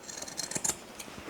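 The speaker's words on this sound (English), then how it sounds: "get my scissors, and I'm just going to clip the corner at both ends" Sewing scissors snip the folded fabric corner of a skirt waist facing, making several quick, close, crisp clicks in a short quiet run with no speech.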